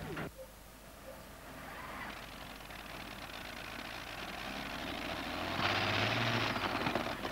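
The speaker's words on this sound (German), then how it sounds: "Wenn ein V12 Allison-Flugzeugmotor, der rund 2000 PS abgibt, zu wenig ist, nimmt man ganz einfach 2 davon." Pulling tractor powered by two V12 Allison aircraft engines, a distant steady roar that swells louder toward the end, heard at a 1987 NTPA tractor pulling event in the USA.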